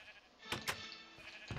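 Sheep in the video game Sim U Kraft giving short bleats, a couple of quick cries close together followed by another, faint over a quiet background.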